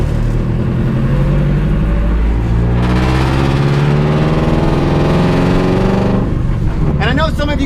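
A car drifting on public roads after Hurricane Irma, its engine droning loud and steady, then revving higher as it slides, with a brief voice near the end.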